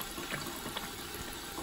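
Water runs steadily from a garden hose hooked up to a sink, a constant broadband rushing and splashing that stays even throughout, with no speech.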